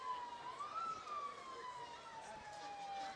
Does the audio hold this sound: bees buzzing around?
no